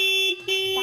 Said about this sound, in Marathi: तुझ्या रिक्षेचा हॉर्न वाजव